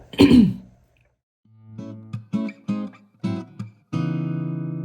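A single sharp cough bursts out, followed by a pause and then a few short throat-clearing hums and a sustained voiced tone.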